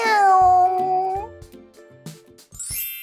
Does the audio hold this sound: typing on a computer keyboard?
no